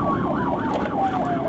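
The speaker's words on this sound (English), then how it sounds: "You know what those lights and sirens mean." Police siren during a traffic stop, a loud close wailing tone sweeping up and down rapidly in a repeating yelp pattern.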